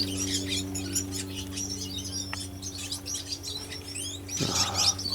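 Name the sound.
young cock and hen birds chirping in nest aviary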